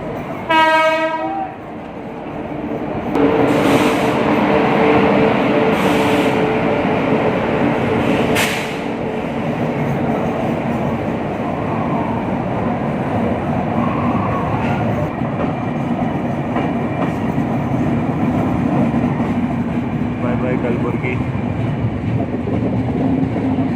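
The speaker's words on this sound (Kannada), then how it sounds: "ನಾಗರ್ಕೋಯಿಲಿಂದ ಮುಂಬೈ ಹೋಗೋ ಟ್ರೈನ್ ಪ್ಲ್ಯಾಟ್ಫಾರ್ಮ್ ಬರ್ತಾ ಇದೆ" Nagercoil–Mumbai train 16340 pulls into a station platform: a horn blast at the start, then a loud, steady rumble and rolling clatter of wagons passing close by, with a few sharp squeals and clanks.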